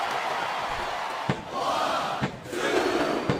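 A wrestling crowd in the game SmackDown vs Raw 2007 roars in a continuous wash, broken by sharp ring slams, with faint commentary underneath.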